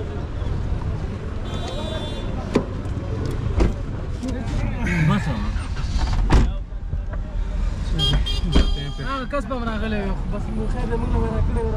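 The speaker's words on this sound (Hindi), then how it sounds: "तो मैं वापस गाड़ी में बैठता हूँ जलालाबाद की तरफ जाता हूँ" A left-hand-drive car on the road toward Jalalabad, Afghanistan, giving a steady rumble of engine and road noise with brief horn toots, while people talk inside.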